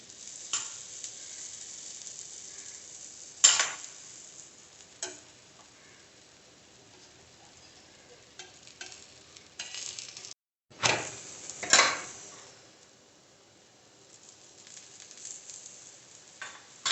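Aloo paratha frying in oil in a pan, a steady soft sizzle running throughout with a few louder crackling bursts as it is moved or flipped, no one speaking.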